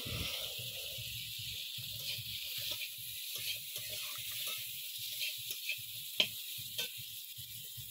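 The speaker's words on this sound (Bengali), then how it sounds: "মশলাটা ভাজা হয়ে গেছে" Spices with chilli and turmeric powder frying in a pan, a soft continuous hiss close by with faint intermittent stirring taps, fairly quiet throughout.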